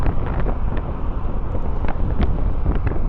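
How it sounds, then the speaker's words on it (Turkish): Constant roar of wind buffeting a microphone mixed with low road rumble while riding an electric scooter in Istanbul, loud and steady. "şu an mesela full yol sesini duyuyorum"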